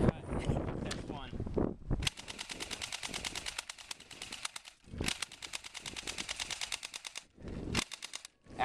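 An M85 airsoft gun fires in rapid automatic bursts, sharp fast-repeating clicks and pops in two long strings, with voices talking around the shooting outdoors.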